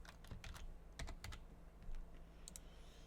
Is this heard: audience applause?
no